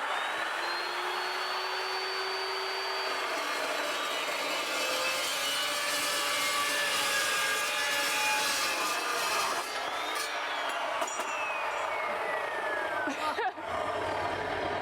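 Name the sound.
chop saw cutting steel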